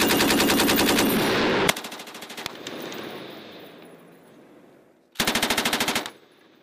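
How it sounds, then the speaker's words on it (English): Heavy weapons machine gun fire at night during military training, two long loud rapid bursts separated by fading echoing reverberation, then a final sharp burst, close and unobscured by talk. "right now we're doing the night fire portion of our training here for heavy weapons"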